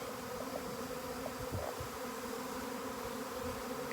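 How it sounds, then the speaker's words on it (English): A swarm of bees outdoors on the Big Island of Hawaii makes a dense, steady drone of many overlapping buzzes, close and continuous with no voices. "Bees, bees. Look at all the bees."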